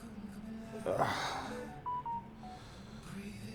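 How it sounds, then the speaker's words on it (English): A phone goes off during a Coburg criterium bike race broadcast: a few short electronic beeping tones, fairly near, after a brief burst of breathy noise, with faint background sound around them. "The producers didn't tell people to turn off the phone, so the phone went off."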